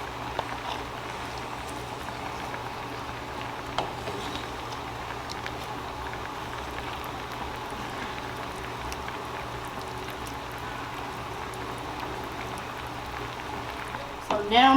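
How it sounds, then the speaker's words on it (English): Creamy Tuscan salmon sauce with spinach and Parmesan simmers in a pan, giving a steady, soft bubbling and sizzling that stays even throughout with no talking. "So now my sauce is bubbling"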